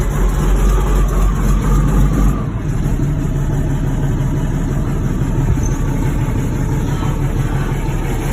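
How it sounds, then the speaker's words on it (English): A 1985 John Deere 8650 tractor engine idles with a steady, loud, low diesel rumble throughout, close by and without talk, holding an even tone apart from a slight dip partway through. "It's a really good running tractor."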